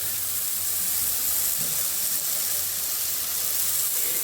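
Stalks and potatoes in a hot pan give off a continuous steamy hiss and soft sizzle, close and steady with faint low rumble beneath and no voices.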